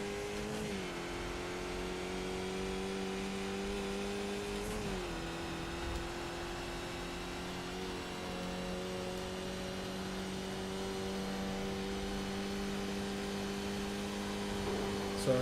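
A Skip Barber race car engine in the iRacing sim drones steadily and close, and its pitch drops in distinct steps as it downshifts through the gears.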